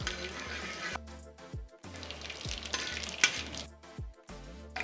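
Dried red chillies, cut into small pieces, frying in hot oil while being cooking a tangy tomato thokku, giving a steady close crackling sizzle broken by a few stirring knocks and brief pauses.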